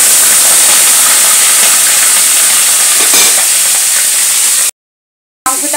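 Chicken pieces frying in hot oil for South Indian style chicken, a loud, steady broadband sizzle throughout, with a brief cut to silence near the end before the frying returns.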